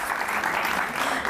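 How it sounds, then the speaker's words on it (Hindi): Studio audience on a Pakistani comedy talk show clapping together in a steady, dense wash of applause, fairly close and continuous for a brief moment. "आपने तालियां बजा दी।"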